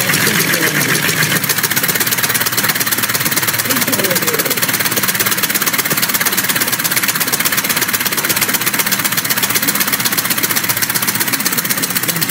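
A small compressed-air engine running on two cylinders chugs and knocks in a fast, steady rhythm, close and loud, running continuously throughout.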